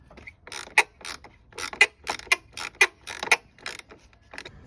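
A ratchet clicks in quick uneven bursts while tightening the battery hold-down clamp on an S197 Mustang, crisp and close, with about a dozen sharp pawl clicks over under five seconds.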